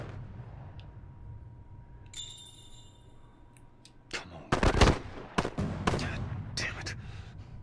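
Gunfire in The Last Of Us, a burst of several loud sharp shots in quick succession midway, followed by scattered further shots over low game ambience with a voice talking.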